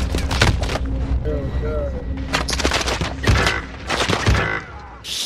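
Rapid bursts of gunfire from an EM2 rifle used as an SMG ring out in a shooter video game, with several close, loud volleys and a brief voice exclaiming between the shots.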